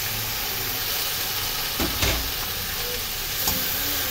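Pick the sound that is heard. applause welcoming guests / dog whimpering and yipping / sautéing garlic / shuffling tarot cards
sautéing garlic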